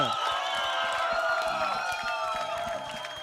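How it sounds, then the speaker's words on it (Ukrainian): Audience at a televised talent show cheering and applauding, a dense continuous crowd roar with whoops over it, loud throughout and easing slightly at the end. "аплодисменты"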